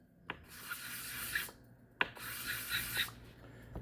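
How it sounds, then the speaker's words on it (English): Sandpaper rubbing on the face of a cap lip, two long rasping strokes each starting with a sharp contact click, close and fairly loud with brief pauses between. "So what I'm going to do here is sand off a little bit"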